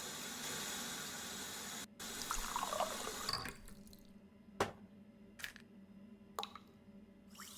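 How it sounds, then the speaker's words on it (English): Water runs into a container in the video game Murder by Choice, a steady faucet stream that stops partway, followed by scattered drips and soft splashes, close and fairly quiet. "Now to fill it up with water and drop one of the tablets in."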